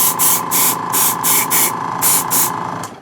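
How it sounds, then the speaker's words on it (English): Spray paint hisses onto a Star Wars probe droid model pod in a series of short, loud, evenly spaced bursts, close to the listener. "I'm being careful not to spray the inside, that silver inside."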